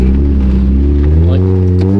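A manual Mazda Miata pulls away after the clutch is dumped from about 4,000 RPM, its engine droning loud and close from inside the car and rising steadily in pitch.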